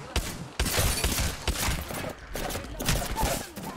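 Gunfire in a video game, with shots hitting the player from behind. Repeated sharp, loud cracks come in irregular bursts with a cluttered, busy texture throughout.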